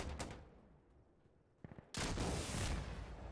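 Rapid bursts of Ace 52 assault rifle fire in an insurgency-style war video game: a short volley near the start, a few sharp cracks, then a loud sustained burst of automatic gunfire to the end.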